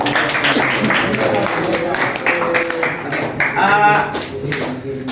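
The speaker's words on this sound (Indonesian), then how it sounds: "kita berikan tepuk tangan dulu" A school class clapping hands for a classmate, steady scattered claps close by, with a voice talking over part of it.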